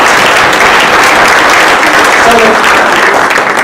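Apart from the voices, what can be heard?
audience applause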